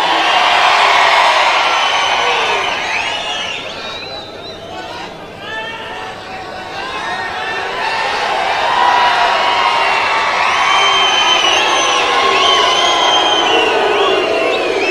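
A large crowd at an outdoor political rally in India roars, shouts and whistles continuously, dense and loud with overlapping voices swelling and dipping.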